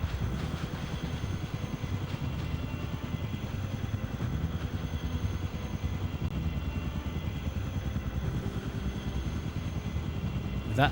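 Helicopter in the PlayStation 2 game Conflict: Desert Storm gives a steady, fairly quiet rotor chop and engine drone that runs throughout, with no speech heard.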